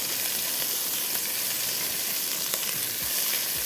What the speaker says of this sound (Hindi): थोड़ा इसको हमने अच्छा सा फ्राई करना है।